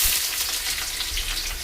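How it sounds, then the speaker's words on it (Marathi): Onions sizzle and sauté in hot oil alongside bay leaf and a piece of cinnamon, a steady, dense hiss of frying that runs unbroken and close throughout with no voices. "चला तर आता कांदे परतून घेतो थोडे."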